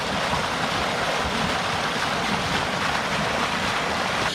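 Continuous rushing roar of water pouring out of the bottom of a full 18-inch pipe at a house build site, loud and steady throughout.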